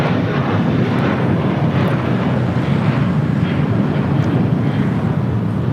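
A steady, roaring rumble from an A320 airliner on the runway at LAX, departing for Houston, holds at an even, loud level throughout with a windy, broadband wash.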